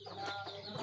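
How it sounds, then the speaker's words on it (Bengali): A chicken in a village yard gives a short, close cluck, one brief call with light outdoor background. "এই মুরগি"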